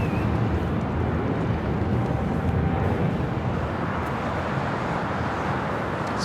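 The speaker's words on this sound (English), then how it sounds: "It's United Airlines 1890 taking off to Newark." A United Airlines airliner takes off at Los Angeles LAX, bound for Newark, giving a steady, broad jet roar that holds at an even level for the whole stretch, with no voices.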